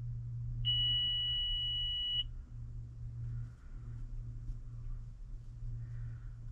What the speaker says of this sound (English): We got a beep.